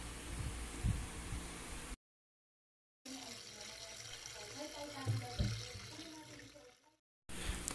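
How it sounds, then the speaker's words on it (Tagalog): Boiled eggs and their shells being rinsed under a running tap, a steady close wash of water with brief breaks and a low voice or handling noise mixed in. "Ang sunod, hanguin at hugasan ang mga pinakuluang itlog."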